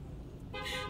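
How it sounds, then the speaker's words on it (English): Car horn honking in road traffic, a loud sustained toot rising in the second half over steady engine and road rumble. "There's honking!"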